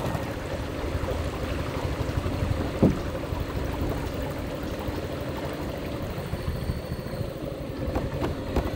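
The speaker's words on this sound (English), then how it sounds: "So we have his boat," A boat moves across water in Cambodia, a steady wash of water and hull noise with wind buffeting the microphone, continuous and fairly close, with no talk.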